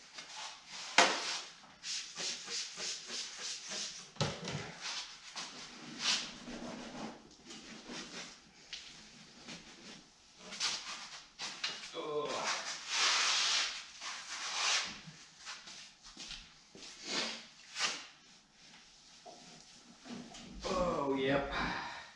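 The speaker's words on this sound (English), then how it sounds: "I'm just wiping this down real quick." A cloth rubs and wipes down a rust-treated truck, making soft, repeated swishing strokes close by, broken up by someone talking quietly.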